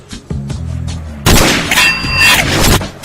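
A gas-powered replica bolt-action rifle fires once with a loud, sharp blast that rings out briefly, preceded by a few quieter mechanical clicks and handling sounds.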